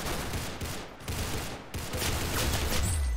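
Gunfire in the Roblox shooter Arsenal, a dense, continuous burst of game gunshots running through the whole stretch at steady loudness, with no talk.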